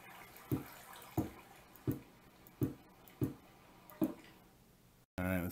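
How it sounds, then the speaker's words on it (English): Water flows and drips in a Minecraft cave, a series of six evenly spaced, distinct splashing drops over a faint trickling background, each ringing briefly before the next. "Still got some water coming in here."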